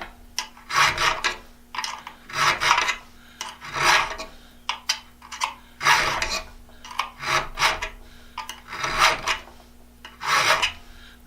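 Hand file rasping against an Irwin/Jennings-style auger bit held in a homemade jig, with repeated rhythmic strokes of about two per second, close and clear, alone without talk.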